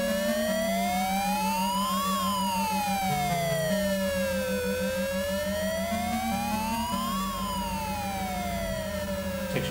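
A police bike's siren wails in a retro console racing game, rising and falling in long sweeps across about ten seconds, loud and steady over a low engine drone, with no voices.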